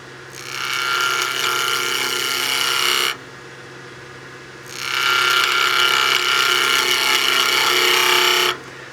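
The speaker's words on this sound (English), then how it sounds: "Again, with the slicing cut, we want to arc that tool handle, starting with the handle nice and low, then we arc to center." A skew chisel takes slicing cuts across square wood stock spinning on a lathe, producing two long, loud, close ripping hisses separated by a brief lull, with no talking.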